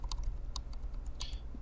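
Computer keyboard bracket keys pressed repeatedly while resizing a brush in Photoshop CS6, a close series of crisp plastic key taps in quick irregular succession with no voices.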